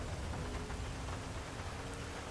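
Heavy rain pours down in the video game GTA V, a dense, even hiss of drops hitting surfaces with a faint low rumble beneath, steady and unbroken throughout.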